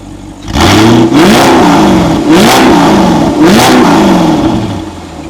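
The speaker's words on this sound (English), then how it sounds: "I'm going to do a quick rev so you can hear what it sounds like." An Audi R8 with an aftermarket exhaust revs loudly up close, rising and falling through three quick blips in a row above a continuous, throaty engine roar.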